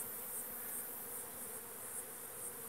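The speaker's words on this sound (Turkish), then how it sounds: "arılar dönerek kovan yerini ezberlemeye çalışıyor. Olduğu yerde dönüyorlar." A soft, continuous buzzing of many honeybees circling in flight around their hive, faint and somewhat distant, with a gently wavering hum.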